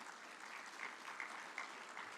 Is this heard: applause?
yes